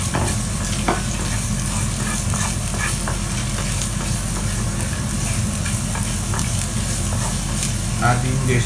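Garlic sautéing in a teaspoon of oil over medium heat for Filipino bistek, a continuous close frying sizzle with intermittent clicks and scrapes of stirring in the pan.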